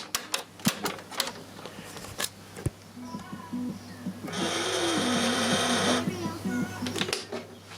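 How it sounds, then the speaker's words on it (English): Solenoid buttons clicking on a Sharp VZ-2000X boombox, several sharp mechanical clicks in quick succession up close, followed by a whirring motor-like hum, with a voice talking over parts. "There's a little couple of buttons here that click, little solenoids."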